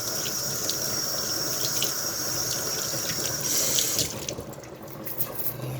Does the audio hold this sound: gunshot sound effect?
no